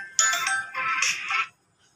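A phone's ringtone plays loud and close as a short melodic electronic burst lasting about a second and a half, then stops abruptly into silence.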